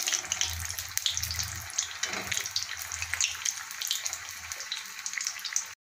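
Aloo tikki frying in full-hot oil give off a bright, continuous sizzle and spatter with fine crackling pops, close and steady for several seconds before cutting off.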